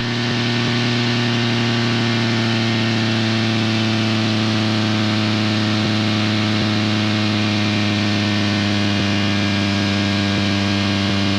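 Yamaha snowmobile engine running flat out near 10,000 RPM, a loud, steady high-revving drone with a constant tonal hum, sustained without letup.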